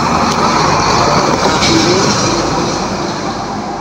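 A tanker truck passing on a road, a loud, close, continuous engine and tyre roar that holds steady and then fades slightly as it moves on.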